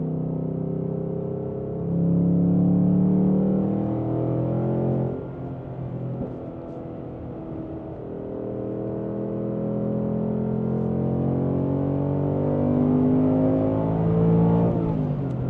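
Ford Mustang Dark Horse with a six-speed manual revving hard, a loud, steady engine drone whose pitch climbs, drops briefly at a shift, then rises again across the run, heard alone from inside the car.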